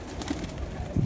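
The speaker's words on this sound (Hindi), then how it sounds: "कबूतर है" A rooftop pigeon gives a short, soft coo or two, fairly close but low and faint against steady outdoor background noise.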